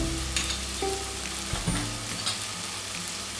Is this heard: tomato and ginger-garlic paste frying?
yes